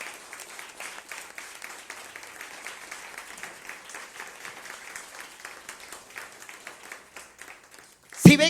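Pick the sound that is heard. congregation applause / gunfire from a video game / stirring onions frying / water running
congregation applause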